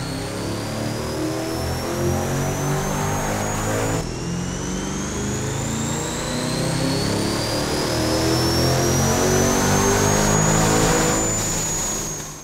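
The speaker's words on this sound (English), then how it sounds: "So let's get on the dyno and make some pulls." A tuned, supercharged C8 Corvette running on a dyno at 7.5 pounds of boost, the engine roaring loud and close through two long pulls, with a rising supercharger whine climbing steadily through each run.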